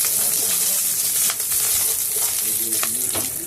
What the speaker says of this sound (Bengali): কাজুগুলো একটু নাড়াচাড়া করে একটু লাল লাল করে ভেজে